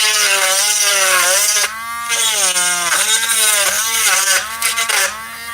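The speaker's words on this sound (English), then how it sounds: "with the same drill bit, now that you have those holes punched, just go back through and basically" A drill bit whines through pre-punched holes, its pitch sliding up and down in strained sweeps with brief dips where the bit catches or eases off, loud and close with no talking.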